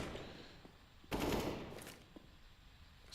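Gunfire in a Counter-Strike esports match: a short loud broadband burst of rapid shots lasting about a second, then quieter scattered pops over a low game-ambience background.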